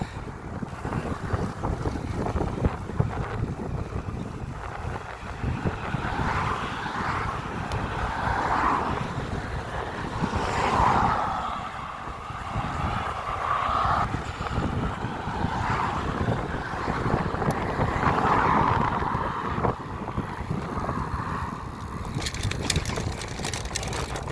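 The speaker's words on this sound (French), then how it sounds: "il y a énormément de vent" Strong wind buffets the microphone while cycling a Paris-Roubaix cobbled sector at Mons-en-Pévèle, a loud continuous roar that swells and eases over about twenty-four seconds, with no talking.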